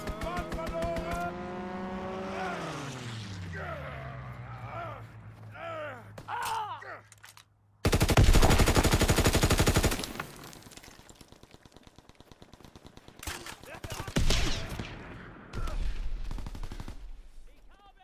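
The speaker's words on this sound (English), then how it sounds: "Enemy strafing run inbound." Aircraft strafing run in Call of Duty WWII: a loud, dense burst of rapid machine-gun fire ripping through mid-game sounds, followed by further shorter bursts, with engine-like tonal sweeps before it.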